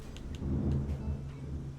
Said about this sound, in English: I don't know if y'all can hear that outside, but it is raining.